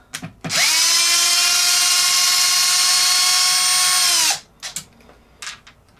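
A power driver whirs steadily for about four seconds at close range, taking bolts out of a crashed Traxxas XO1 RC car's front end, then stops and gives way to a few brief clicks and handling noises.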